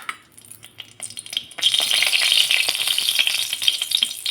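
Dried red chillies frying in hot oil in a pan, a close crackling sizzle that starts softly with scattered pops and swells into a steady bright hiss for the last few seconds.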